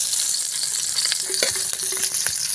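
Lemongrass sautés in a pan for adobo, giving a loud, dense, continuous sizzle close up with brief stirring scrapes over it and no talking.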